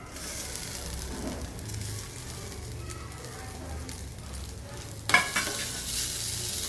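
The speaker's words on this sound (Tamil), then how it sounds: "தாளிக்கும் போது தேங்காய் எண்ணெயில் தான் தாளிக்கணும்" A steady low sizzle of spices frying in coconut oil, then a sudden louder crackling hiss as something is added, close and continuous.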